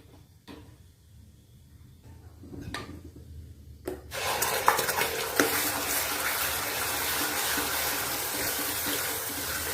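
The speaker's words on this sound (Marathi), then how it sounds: "मसाला थोडासा परतवून घ्यायचा आहे" Spice masala being sautéed in a pan: quiet handling and a couple of knocks at first, then a dense, steady sizzle of the masala hitting hot oil that carries on loudly to the end.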